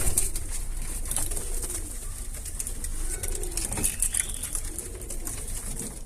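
Domestic pigeons coo in a loft, soft repeated throaty coos rising and falling close by over a steady background hiss, with a few fluttering and scuffling sounds between calls.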